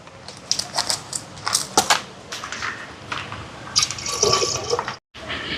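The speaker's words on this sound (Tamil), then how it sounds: "ஒரு 3 பேக்கெட் பால் சேர்க்குறேன்." Packet milk pours into a pot for making payasam, a wet, gurgling stream of liquid filling the vessel with a few drips and splashes, close and fairly loud with no talk.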